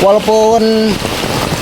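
Heavy rain pours steadily in a dense hiss, with a person speaking briefly over it at the start.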